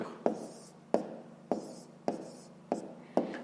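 Numbers are written by hand in six distinct, evenly spaced strokes or taps of a pen on paper, each a sharp close attack fading into a short scratch, with no talking.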